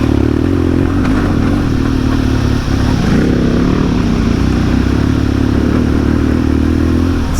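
Harley-Davidson Pan America adventure motorcycle riding along a dirt track, a loud continuous engine drone with shifting pitch, some clattering and scraping over the terrain, close and unbroken.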